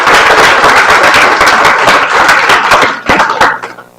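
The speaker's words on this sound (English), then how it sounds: "A huge round of applause for them, please." An audience gives a loud round of applause at a talk session with film directors, close, dense clapping that runs steadily before thinning out into a few scattered claps at the end.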